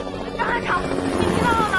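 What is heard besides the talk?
helicopter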